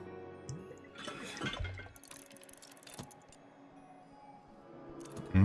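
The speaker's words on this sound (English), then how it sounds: "Pour some water off down here." Water pours and splashes in the Book of Hours video game, a short burst of running liquid near the middle followed by quieter trickling and clinks.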